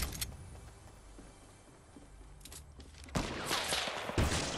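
Gunfire aimed at players in a battle royale video game: a quick rattling burst of shots comes early, then louder cracks and crunching impacts pile up near the end over low background noise.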